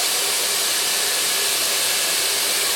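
A hair dryer runs steadily while long curly hair is blow-dried, giving a constant loud, close airy roar with no breaks and no voices.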